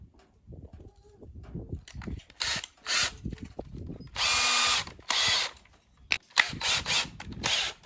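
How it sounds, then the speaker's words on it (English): A power drill drives 2-inch screws into a wood block for cedar shutters on a pole barn house, short whirring bursts of varying length mixed with quieter handling and rubbing noises, fairly close. "I've got some 2-inch screws, and I'm gonna start these screws in that block"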